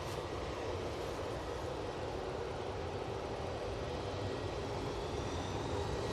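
An aircraft at Manchester Airport gives a steady, faint, broadband engine roar that holds evenly from start to finish, with no voices.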